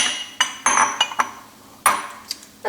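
Ten ice cubes clattering one after another into a glass container for a homemade vanilla bean frappuccino, a series of sharp, close clinks with brief pauses between drops.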